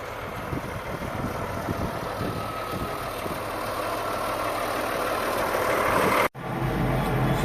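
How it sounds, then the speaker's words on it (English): A tractor drags a spoons implement across a peat bog, flipping the peat into ridges; its engine drones steadily and fairly loud throughout, with a brief dropout near the end. "it is essentially an implement drug behind the tractor that flips the peat into little ridges"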